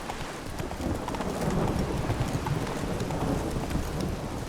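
A horse gallops in The Witcher 3: Wild Hunt, its hooves making a quick, steady clip-clop over a rain-like ambient wash.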